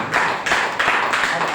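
An audience at an RCM business meeting in Ghaziabad claps in a short burst of applause. The clapping is dense and close, coming in rapid uneven pulses with some muffled thumps underneath.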